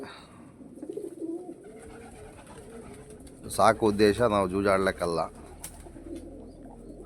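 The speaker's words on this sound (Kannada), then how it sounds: "ನನ್ನ ಒಂದು ಐವತ್ತು ಜೊತೆ ಪಾರಿವಾಳ ಇದ್ದಾವೆ" Pigeons coo in a burst of repeated throaty calls, close and fairly loud, after a stretch of quieter sound; someone speaks at the start.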